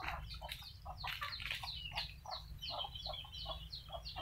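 Chickens and ducks freshly fed in an open backyard pen beside rice fields, a flock clucking and chirping in a steady run of short calls over a low constant rumble.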